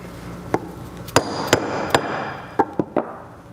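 Sharp metallic taps and knocks from a socket tool being used while reassembling a boat propeller and its dust seal, about eight distinct hits spread irregularly over a few seconds against a steady workshop background.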